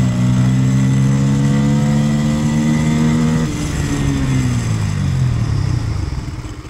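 A Bajaj Pulsar N160 motorcycle engine drones loudly and steadily up close, then drops in pitch midway and winds down as the bike slows.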